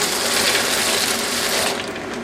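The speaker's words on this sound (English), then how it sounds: "I'm going to put 16 ounces of penne rigate." Dry penne rigate pasta, 16 ounces, poured into a pot of boiling salted water, a dense continuous rattling pour with bubbling water, close and steady, easing off slightly toward the end.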